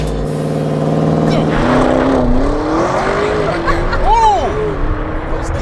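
Audi RS7 accelerating hard, a loud, steady engine roar climbing in pitch with abrupt, jolting gear changes, heard from inside the car with a voice exclaiming over it.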